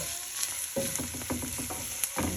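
An egg omelette with onions and garlic frying in a cast iron skillet, a steady soft sizzle with a few light scraping touches, close and fairly quiet, with faint tonal sounds in the background.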